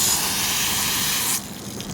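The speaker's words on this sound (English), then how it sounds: "we'll go ahead and use some water and rinse it out." A loud, steady hiss of water rinsing a K&N air filter runs for over a second, then stops abruptly, leaving a quieter background.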